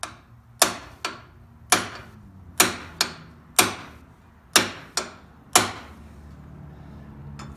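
Trailer wheel bearing race being driven in with a 1 7/16-inch socket and hammer: about nine sharp metallic taps at an irregular, unhurried pace, each ringing briefly, close and clear with no talk.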